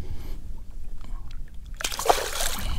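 Speckled trout released from a boat back into the water, a quiet lull followed by a single close splash and slosh near the end.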